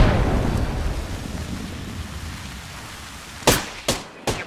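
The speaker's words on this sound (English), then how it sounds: "Thermite grenade out." A thermite grenade going off in a video game: a roaring, hissing burst that fades out, followed by three sharp, loud cracks near the end.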